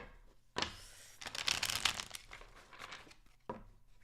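Tarot cards being shuffled by hand, giving close, papery riffling and crinkling in two bursts with a short pause between them and no talking.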